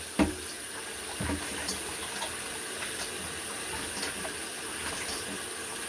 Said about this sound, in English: Okay, I'll rinse off my hand.